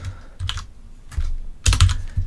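Keys clatter on a computer keyboard during coding, in short irregular bursts of clicks with pauses between, ending in a louder flurry of strokes; no talking.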